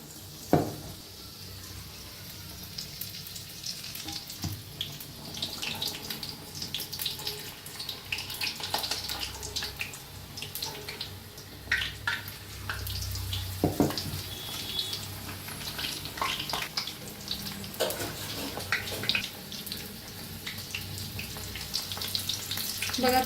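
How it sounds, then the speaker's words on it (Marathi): Spinach pakoras deep-fry in hot oil with a continuous soft sizzle and bubbling, broken by occasional clinks and stirring sounds nearby. "छान असे तळून घेऊया दोन्ही साइडने"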